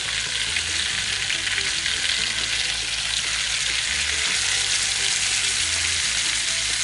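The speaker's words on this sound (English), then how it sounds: "our butter is good and melted and sizzling pretty good, so we're going to go ahead and add our deer steaks" Deer steaks frying in melted butter in a pan, a loud, even crackling sizzle held close and steady throughout, alone with no voices.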